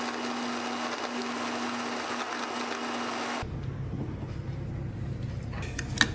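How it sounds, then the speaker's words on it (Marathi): A mixer grinder grinding coconut whirs with a steady, loud motor drone, then shifts abruptly to a lower, rougher churn partway through with a small clunk near the end. "सर्वात आधी आपल्याला खोबरं वाटून घ्यायचं आहे"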